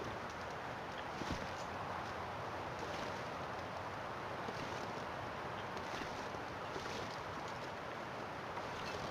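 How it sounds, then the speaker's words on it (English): Strong, steady wind roars across an outdoor winter landscape in The Long Dark survival game, a dense unbroken rush that fills the whole stretch without pause and with no speech over it. "Okay, it's windy"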